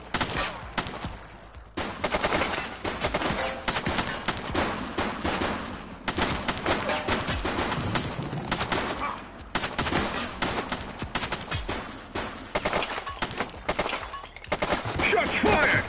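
Heavy gunfire in a police shootout in The Precinct video game, continuous loud rapid volleys of close shots with brief pauses, some voices faintly mixed underneath.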